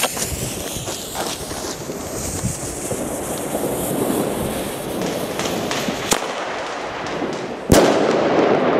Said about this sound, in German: Und zum Schluss der wahrscheinlich lauteste im ganzen Test, der Nico Flashbang.